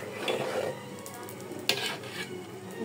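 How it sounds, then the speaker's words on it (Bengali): Dough cakes for Bengali oil pitha frying in hot oil, a continuous close sizzle with occasional stirring scrapes and a brief clink of utensils. "আমি কিন্তু তেলের পিঠা বানানো শুরু করে দিলাম"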